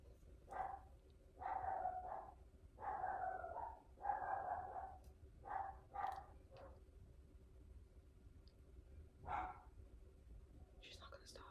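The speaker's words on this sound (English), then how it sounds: "She's the sweetest dog, but she barks at everything." A dog barks again and again in short bursts, fairly faint and somewhat distant, over a low steady background hum.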